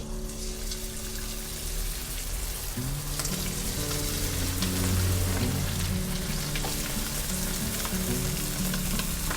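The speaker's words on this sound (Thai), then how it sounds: "แล้วก็นำไก่ลงทอดได้เลย" Oil sizzles and crackles steadily as chicken wings deep-fry over medium heat, a dense continuous hiss with small pops and a low bubbling undertone, close and fairly loud.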